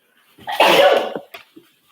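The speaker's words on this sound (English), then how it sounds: "no, me sneezing" A single close, sharp sneeze with a quick breathy intake, followed by a short sniff.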